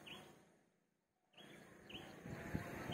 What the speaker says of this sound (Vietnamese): Sáng sớm thì có những chú chim hót